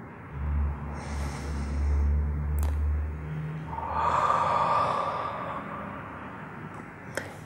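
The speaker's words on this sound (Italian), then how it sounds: "Eseguo la mia respirazione diaframmatica." A person lying on their back performs slow diaphragmatic breathing, with a long, soft exhalation followed by a breathy, airy inhale, close and quiet with no talk.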